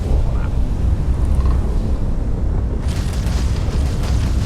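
Spaceship blowing up in Starfield during a space dogfight, a loud sustained roaring rumble with heavy low-end that brightens into a crackling burst near the end.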